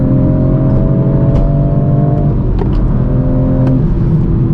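A BMW M4 G82 with a six-speed manual accelerates under a loud, close engine note, revs climbing then dropping briefly as if between gears before rising again.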